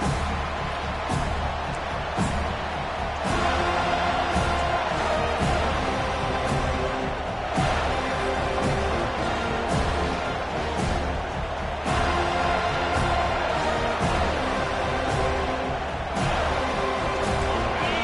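Stadium crowd at a USC vs Florida State college football season opener, cheering and roaring loudly and continuously throughout, with occasional swells of whoops and shouts.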